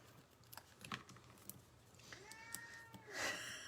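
A cat meows a couple of times nearby, short rising calls, with faint tapping and clicking sounds of paper crafting in the background.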